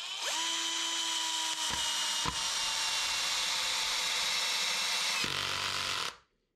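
A FERM CDM 1149 cordless drill driver sinks an 8 cm wood screw in one steady, loud whirring run of about six seconds, with a couple of brief dips, before the motor cuts off abruptly.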